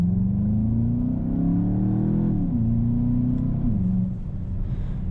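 2019 Volkswagen Jetta GLI pulling hard in sport mode with a DSG gearbox, engine drone climbing steadily in pitch with quick shift dips, heard from inside the cabin, loud and continuous.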